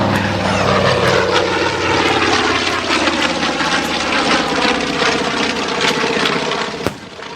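A North American B-25 Mitchell bomber roars past at an airshow, its loud propeller engines throbbing close and steady before fading slightly, with a sharp knock near the end.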